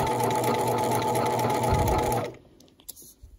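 A sewing machine stitches a foundation paper pieced quilt block in a fast steady run for about two seconds, then stops abruptly, leaving faint handling clicks.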